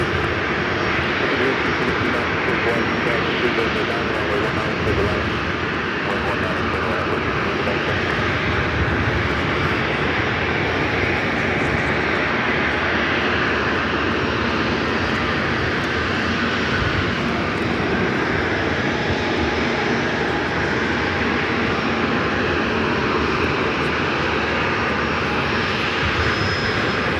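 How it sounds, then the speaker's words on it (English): An Airbus A220-300 jet roars steadily as it rolls down the runway at LAX, a loud, sustained broadband engine rush that holds without letup for nearly half a minute, with no talking. "Airbus A220-300 rolling down at"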